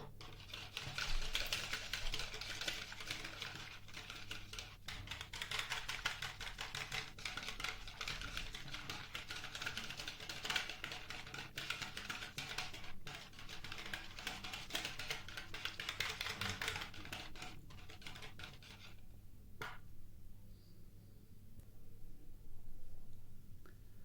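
A whisk beats a leek börek filling of milk and vegetable oil in a bowl, giving a long, steady run of quick rapid taps and clicks that stops abruptly near the end.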